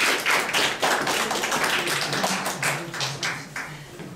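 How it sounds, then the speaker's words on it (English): A crowd at a political gathering applauds in a steady round of clapping, dense and fairly close, with no talk over it. "Give yourself a hand round of applause."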